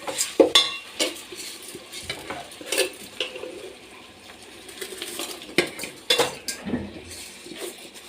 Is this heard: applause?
no